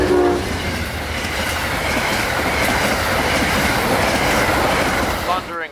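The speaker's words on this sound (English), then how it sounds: "It was Amtrak 91 coming down from New York City, with Phase 4 Heritage number 184 in the second position." Amtrak 91, a passenger train with Phase 4 Heritage locomotive number 184 in the second position, passes close by as a loud, continuous rumbling roar with rail clatter, easing off at the very end.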